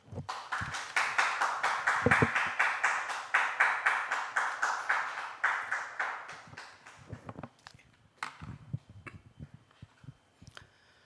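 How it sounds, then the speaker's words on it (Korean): Audience applause in a church lecture hall welcomes a visiting theology professor, a burst of many hands that rises quickly, holds for about six seconds, then thins into scattered claps and faint shuffling. "나오실 때 뜨거운 박수로 환영을 해주시면 고맙겠습니다"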